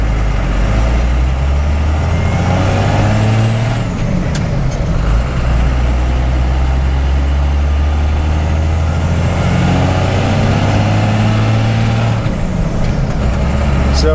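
A Cummins diesel truck engine pulls hard under acceleration, a loud, sustained low roar with deep rumble and shifting pitch, recorded close without talking.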